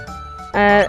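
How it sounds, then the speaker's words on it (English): Leene's bell in Chrono Trigger rings out as a bright, sustained chime that swells suddenly after a softer tonal intro, loud and clear with a shimmering ringing tail. "people who hear Lean's bell ring will have interesting and happy lives"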